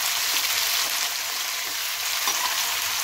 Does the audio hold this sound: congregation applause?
no